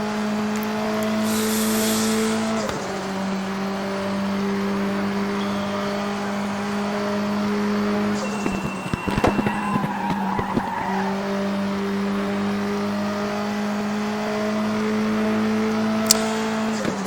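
A Volvo 240T laps the Macau street circuit in the RaceRoom racing game, its engine droning steadily with a sharp downshift and braking near three seconds, a mid-lap lift with tyre squeal around nine seconds, then hard acceleration resuming, loud and alone.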